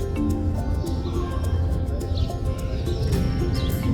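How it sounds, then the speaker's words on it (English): Wild birds calling around Antigua, Guatemala, with short chirps and coos scattered over a steady, busy background hum of town and nature, no talking. "let me show you some marvelous birds around my part-time home, Antigua, Guatemala"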